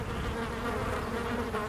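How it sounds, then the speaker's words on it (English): Flies buzz around beached whales in the VR game Lies Beneath, a dense, continuous close drone that stays loud and steady from start to finish, with no voices. "The flies are buzzing around."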